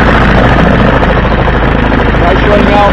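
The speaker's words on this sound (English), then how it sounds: "Nice running outboard, short shaft." A 1960s Evinrude 33 hp Ski Twin short-shaft outboard with electric start runs at a steady idle, a loud, close, continuous throbbing drone with no pauses.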